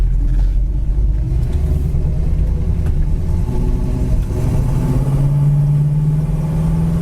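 A white 1969 AMC AMX cruises down the road at about 60 mph, its engine rumbling and droning loudly and steadily throughout, with road and wind noise and no talking.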